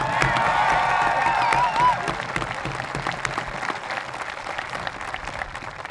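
Applause and cheering rise from a crowd at a high school graduation ceremony, a broad wash of clapping with a few whoops near the start that gradually thins and softens.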